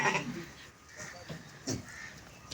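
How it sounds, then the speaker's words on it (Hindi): Teddy goats, a male and a female, bleat on a goat farm with a few short, wavering calls spaced apart, moderately close over a quiet farmyard background. "ये टैडी बकरी है, एक मेल एक फीमेल, और माशाल्लाह बड़े सेहतमंद है।"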